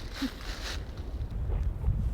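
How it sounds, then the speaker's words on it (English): Gusty wind sweeps across a campsite on the Appalachian Trail, producing a low rumbling buffet against the microphone with slight rises and falls throughout. "It's windy here."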